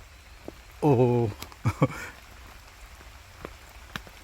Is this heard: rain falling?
yes